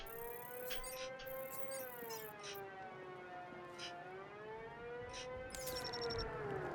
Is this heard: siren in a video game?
yes